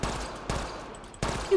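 Scoped pistol firing in Mass Effect Andromeda, three sharp shots spaced about three-quarters of a second apart, each a loud broadband crack with a short tail, with no talk.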